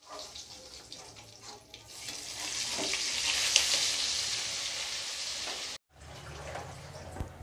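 Two teaspoons of butter melting into about 60 grams of hot white oil in a wok, a soft sizzle that swells into a steady frying hiss, then breaks off briefly before resuming quietly.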